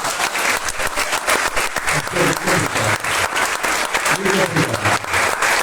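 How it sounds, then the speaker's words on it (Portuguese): Congregation applauding in a church, dense sustained clapping throughout with a voice speaking over it. "Aplauda ao Senhor Jesus."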